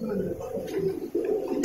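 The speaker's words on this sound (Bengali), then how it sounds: "তারপরে আমরা আরো কিছু কবুতর দেখতেছি পাশে।" A pair of Kaldom pigeons coo in a cage at a pigeon loft farm in Dhaka, Munshiganj, low throaty rolling coos close by, mixed with murmuring voices and loft background noise.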